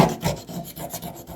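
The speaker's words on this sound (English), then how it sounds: "I'm just going to rub a Sharpie around this" A Sharpie marker rubbed around the edge of a metal rust repair patch on a Suzuki Samurai, making a close, steady scratchy rasp with short rhythmic strokes.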